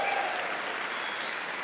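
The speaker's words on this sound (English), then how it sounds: "That's an appropriate amount of applause." Audience applause at a stand-up comedy show, a steady wash of clapping from a crowd that holds evenly for under two seconds with no voices over it.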